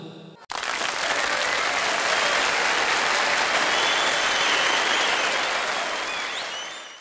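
Loud, sustained applause from a large crowd honoring an MLA, a dense wash of clapping that starts abruptly and carries on steadily for several seconds before easing slightly at the end.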